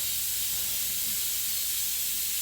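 Air compressor kicking on in a garage during strut work on a Dodge Grand Caravan, a steady, loud broadband hiss with a faint low hum underneath and no break across the clip.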